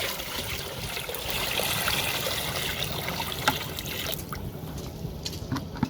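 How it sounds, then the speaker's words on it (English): Water pours steadily into a fermented mix of crushed garlic, hing and chili powder, diluting it one to one for an organic garden pest spray; a continuous close trickle and splash that thins out near the end, with no talking. "Now we are diluting it in 1:1 water."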